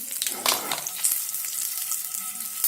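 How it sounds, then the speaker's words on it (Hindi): Cumin, cinnamon and cloves crackling and sizzling in hot oil in a pan for paneer, cashew and pea fried rice, a close, bright, continuous frying hiss with a few sharper pops and stirring bursts. "पहले हम डालते हैं जीरा, उसके बाद दालचीनी, लौंग"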